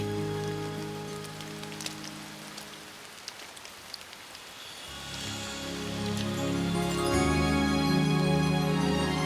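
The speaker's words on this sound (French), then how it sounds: "Il a fait pleuvoir." Steady rain pours down in an animated cartoon scene, a dense hiss that grows fuller and louder halfway through as tonal music swells beneath it.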